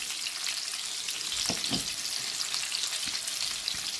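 Chicken pieces lightly browning in a pan for Korean sweet and sour chicken give off a steady, bright sizzle with a couple of soft stirring scrapes, close and continuous, with no voices.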